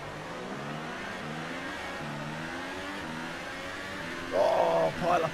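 Race cars in F1 2018 accelerate off the grid at a race start, their engines rising together in a steady, loud revving drone. A brief louder burst follows near the end.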